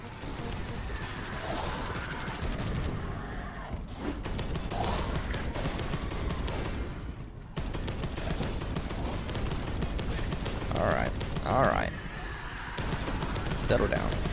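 Gunfire from the video game Space Hulk: Deathwing, dense sustained bursts of shooting running throughout amid game noise, with a few sharper crashes near the end and a player's voice talking over it.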